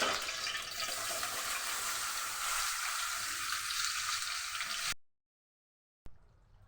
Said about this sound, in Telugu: ఆయిల్ పోసుకొని ఆయిల్లో వంకాయలు వేసేసుకుంటానండి